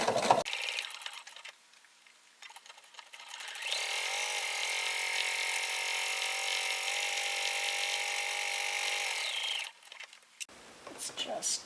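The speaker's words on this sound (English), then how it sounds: "I am just slowly going to sew and put a little bit of pressure on my pin" A sewing machine stitches a tote bag in one steady, close whirring run of several seconds, with quieter handling noises before and after.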